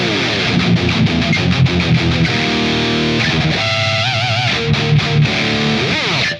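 Heavily distorted electric guitar playing a chugging riff, loud palm-muted low chugs in tight rhythmic bursts with sustained crunchy chords and a pitch-bending squeal near the end, no voice.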